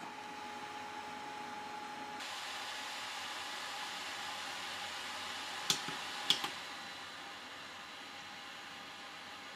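Steady, soft broadband whir of a Silvercrest SSH 600 B2 ceramic plug-in fan heater running on low power, with a couple of brief clicks partway through.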